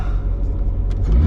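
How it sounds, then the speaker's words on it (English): Mercedes C55 with its M113 engine revving briefly as the throttle is blipped, a loud close low rumble that swells toward the end. "goes straight to zeros if I blip the throttle"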